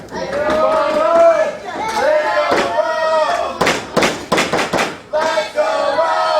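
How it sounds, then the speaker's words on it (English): A fight-event crowd at an AMP Summer Fights bout cheers for a hometown favorite, its roar rising and falling beneath a commentator's voice, with sharp bursts of noise in the middle. "You hear the crowd, they're gearing up here. They're cheering for their hometown favorite, Rome."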